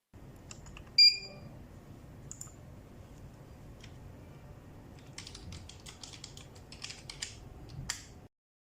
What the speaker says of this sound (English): Let's type some numbers.